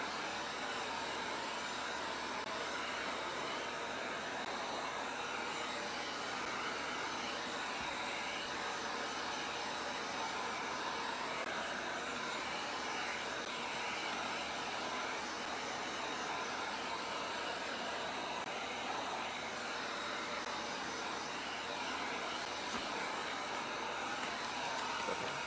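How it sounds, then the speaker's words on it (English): A Wagner paint sprayer sprays paint for a wood sign with a loud, continuous hiss and motor drone. It holds steady from start to finish with no talking. "Paint sprayer."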